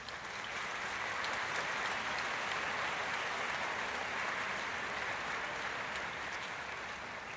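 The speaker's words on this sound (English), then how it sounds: "give them a round of applause for their efforts" Sustained, dense applause from a large commencement crowd honoring graduates' families, a steady even roar lasting several seconds.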